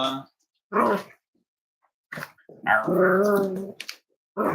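Cavalier puppies at play in a maze give short whimpers and bark-like yelps in separate bursts, close to the listener, with a longer whining run in the middle.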